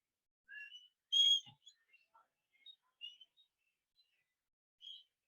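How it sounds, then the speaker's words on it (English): Scattered whistles from an audience at a talk on gender diversity, faint and distant: a few short, high tones and chirps spread sparsely over several seconds with silence between them. "Do you know how to whistle?"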